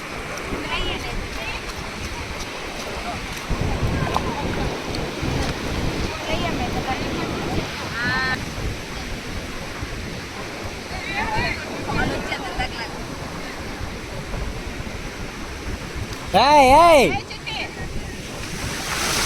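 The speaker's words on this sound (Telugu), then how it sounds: "అలలు కూడా చాలా ఫోర్స్గా వస్తున్నాయి." Strong ocean waves break forcefully on a beach in a continuous rushing roar, with wind buffeting the microphone and people talking over the surf.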